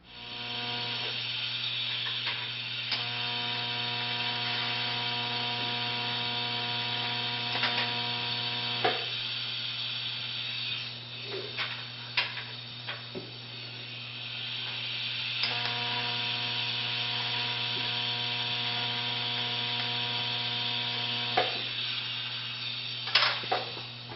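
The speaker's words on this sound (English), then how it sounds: "I'm going to TIG weld behind the nut" TIG welding behind a steel nut on a rod for a forged steel rose, a steady electric hum with a bright buzzing hiss throughout, close and continuous, with brief ticks and small crackles here and there.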